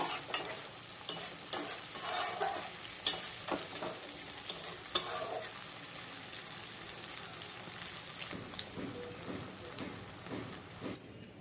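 Prawns sizzle in a pan while being stirred. Sharp scraping clinks cluster in the first half, then a softer, steady frying hiss continues.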